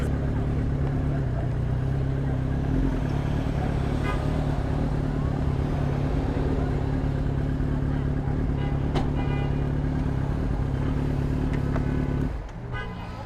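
A police motorcycle's engine runs steadily on the road, a loud continuous motor drone with a brief horn-like toot, then the rumble drops off near the end.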